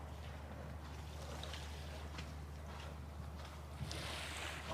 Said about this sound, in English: Listen to that sound of waves lapping.